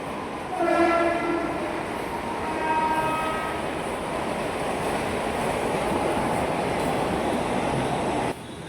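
A train's horn sounds near the start at a Mumbai-area railway station, then a steady loud rumble of rail cars rolling past continues until it drops off near the end.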